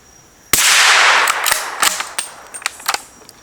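A rifle fires a ten-round magazine at a target: one loud sharp report rings out, then a rapid string of sharper cracks follows with clicks and mechanical noise between them.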